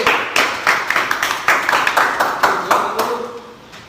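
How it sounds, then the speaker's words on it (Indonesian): A classroom group claps for Group D after a panel-repair presentation on hammer-and-dolly dent fixing: loud, close, irregular hand claps that start scattered, bunch together, then taper off. "beri tepuk tangan buat kelompok D"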